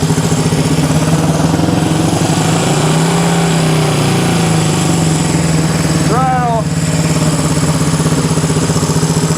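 A 1974 Honda CB360 motorcycle sits idling up close with a steady, even engine drone that runs through the whole stretch, a little high after bench adjustment, with brief voices and a short squeak partway through.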